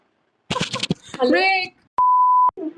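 A phone gives a single steady electronic beep lasting about half a second, clear and close, right after a short burst of talk.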